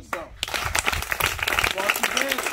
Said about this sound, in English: Everybody clap for yourself.